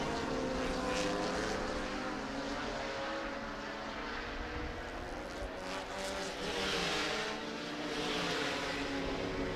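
A prototype race car's roaring engine drones steadily at Laguna Seca, swelling and fading as it passes, with another engine rising behind it.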